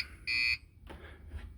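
Warning beep from a UPS battery backup hacked to run on a deep cycle battery with a trickle charger: one loud, steady electronic tone lasting about a quarter second, followed by low background hum and faint noises.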